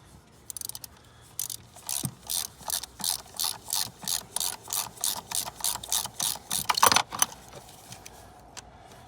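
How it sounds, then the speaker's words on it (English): A ratchet with a 1/2 inch socket tightens intake manifold screws on a 2012 Chevrolet Traverse, clicking close by in a steady back-and-forth rhythm of about fifteen strokes, with a few metallic clinks and no talking. "I used a 1/2 inch socket to get the 6 screws back in for the intake manifold"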